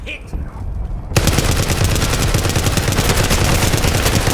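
A gun turret in Call of Duty: Warzone breaks a quieter moment with sudden rapid automatic fire, loud, dense, continuous bursts hammering on without pause for several seconds.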